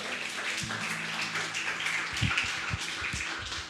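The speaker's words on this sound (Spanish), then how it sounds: "Voy a darle un aplauso al Señor" A church congregation applauding in praise during a Spanish-language worship service, a steady wash of many hands clapping at moderate distance, punctuated by a few low thumps.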